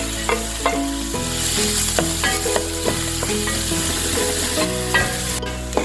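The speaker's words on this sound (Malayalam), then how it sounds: "4 പച്ചമുളക് അരിഞ്ഞു വെച്ചതും കൂടി ഇതിനകത്തേക്ക് ഇട്ട് ഒന്ന് വഴറ്റിയെടുക്കാൻ പോവാം." Chopped onion and green chilies sautéing in hot oil, a loud, dense sizzle with spatula knocks and scrapes against the pan, close up and with no talking.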